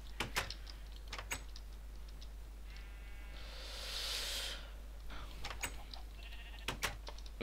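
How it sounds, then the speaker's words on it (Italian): Sheep bleat in the Minecraft video game, one drawn-out bleat in the middle surrounded by sharp clicks and taps from gameplay, with no talking. "Le pecore, pecore, pecore."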